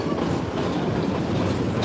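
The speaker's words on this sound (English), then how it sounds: "All aboard the choo-choo train." Railcar wheels clack rhythmically over rail joints on a Colorado tourist train ride near Silver Plume, a close, steady rumble filling the carriage with no talk.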